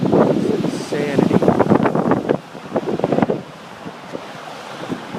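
Storm-surge waves crash and wash back over a rocky shore during a March nor'easter at Scituate, with heavy wind buffeting the microphone and excited voices talking over the roar of the surf.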